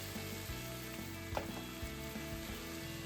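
Pork pieces frying and sizzling steadily in a pan, a continuous close crackle with a few louder pops and occasional stirring scrapes, with no voices over it.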